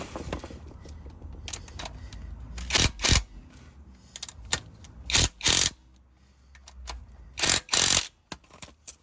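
Ratchet driving the dogbone insert bolts on an Audi/VW subframe mount, heard as bursts of rapid mechanical clicking separated by short pauses, close and fairly loud with no talking.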